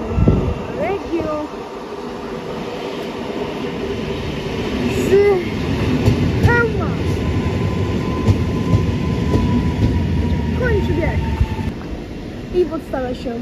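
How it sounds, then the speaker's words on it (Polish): A Regio train rolls into Lublin Główny station with a low rumble, wheel clatter and brief squeals, staying close and loud throughout while someone talks over it. "I mamy wjazd pociągu"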